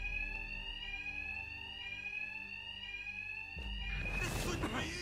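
A fire alarm in Batman Arkham Knight keeps up a steady high electronic tone that does not break, and a burst of noisy action breaks in near the end.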